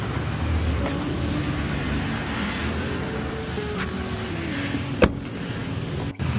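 Heavy-rain road traffic in a jam: a steady rumble of car engines and wet road noise, with a sharp thump around the middle and a brief dip near the end.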